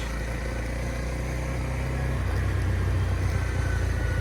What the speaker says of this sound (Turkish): Egzoz yani gayet güzel tatlı böyle bir egzoz sesi var